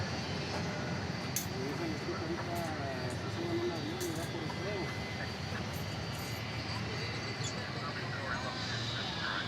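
Heavy Qatar Airways jet airliner at DFW Airport, a continuous broad engine roar held steady and fairly distant for the whole stretch, with faint background voices.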